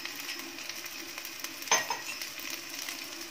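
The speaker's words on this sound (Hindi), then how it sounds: "इसमें हम अदरक और ये लहसुन जो क्रश किया था ये हम इसमें डाल देते" Ginger and crushed garlic fry with onions in a pan, making a steady close sizzle broken by a brief scrape of stirring partway through.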